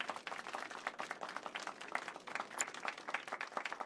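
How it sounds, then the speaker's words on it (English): A small audience in a Final Fantasy game claps for a pianist after a concert, a brief, fairly quiet round of scattered applause with no talking. "let's give our pianist a warm round of applause"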